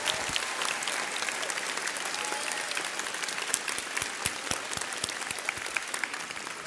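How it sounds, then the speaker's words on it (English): Sustained audience applause for medical assistant graduates at a nurse pinning ceremony, dense hall-filling clapping with scattered sharper individual claps and crowd murmur. "how about a big round of applause for our medical assistant graduates?"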